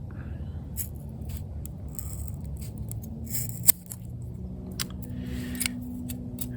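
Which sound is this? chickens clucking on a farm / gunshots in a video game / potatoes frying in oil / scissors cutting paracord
scissors cutting paracord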